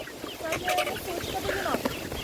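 Dominant-breed laying hens cluck and squawk in short bursts at a busy livestock market, moderately close, with talk in the background.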